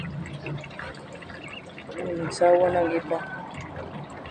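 Young ducklings splash and dabble in pond water, with light drips and a brief burst of nearby splashing midway, while a person talks over it.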